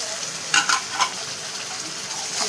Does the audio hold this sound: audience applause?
no